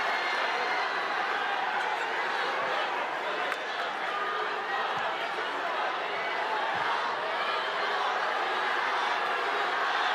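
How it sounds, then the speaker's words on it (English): A packed arena of Barangay Ginebra and TNT fans at a PBA Commissioner's Cup finals basketball game roars in a dense, unbroken wall of crowd noise, with a commentator talking over it. "And the Ginebra crowd just automatically drowns them out."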